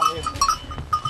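Goats kept by families for income bleat in short repeated calls, with a faint metallic bell-like clink and low rumbling background, moderately close, a little voice-like noise mixed in.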